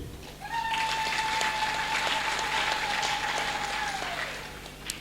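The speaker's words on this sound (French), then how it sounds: "On applaudit." An audience at a Bible school prize ceremony claps together, a soft, fairly distant patter of many hands lasting several seconds, with a steady high whistle-like tone held above it until it fades.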